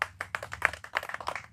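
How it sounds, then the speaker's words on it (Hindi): An audience at a local civic gathering honouring municipal staff claps to welcome a guest, a sparse, uneven patter of a modest number of hands, close and clear with no talk over it. "जोरदार ताली से स्वागत करें पल्लवी बहन का।"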